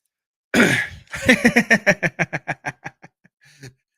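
A man coughs, one rough hack followed by a rapid run of short, fading coughs, close to the microphone with nothing else around.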